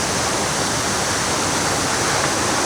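Cataract Falls, a waterfall with a short vertical drop of about six feet, gives off a loud, constant, close-up roar of rushing water that fills the air steadily with no voices.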